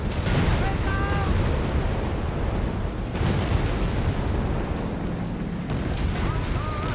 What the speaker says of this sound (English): Flak 46 are doing good work there